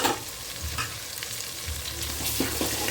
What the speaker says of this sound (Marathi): मसाला मिरची हे तेलामध्ये चांगलं परतलं गेलं पाहिजे